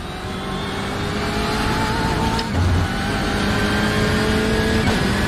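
BMW M8 GTE race car engine in the iRacing game at Sebring, a steady loud drone holding near-constant pitch throughout, with a brief low thump midway and no talk.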